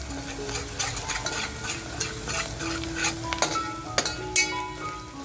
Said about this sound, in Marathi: मस्त आपल्याला हे फ्राय करून घ्यायचं आहे तेलाबरोबर